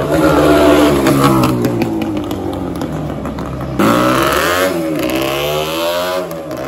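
A 220cc twin-cylinder Suzuki Shogun motorcycle engine revs loudly and up close, its pitch rising and falling through repeated throttle blips, with no talking.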